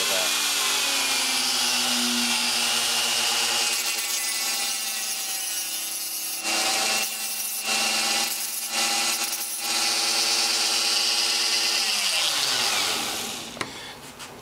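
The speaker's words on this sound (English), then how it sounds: "using a carbide cutting tool on a Dremel" A Dremel rotary tool fitted with a carbide cutting bit grinds a hole through a Jazz carto tank, a steady high whine with strong harmonics that dips briefly several times mid-cut and winds down near the end.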